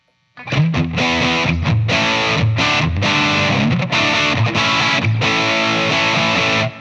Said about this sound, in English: I'll take the distortion level down just a little bit